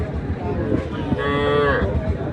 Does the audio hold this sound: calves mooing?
yes